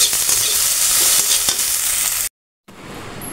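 Okra bhaji (bhindi) frying in a pan, a loud, close, continuous sizzle with stirring scrapes, cutting off briefly before the sizzle resumes more quietly.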